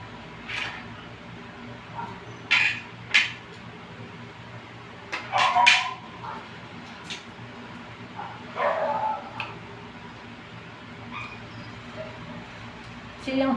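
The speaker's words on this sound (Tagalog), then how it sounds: "Maingay na yung aking mga aso sa labas. Gusto nang kumain." Dogs outside bark and yip in short, scattered bursts separated by quiet stretches, heard at a moderate distance over a faint background hum.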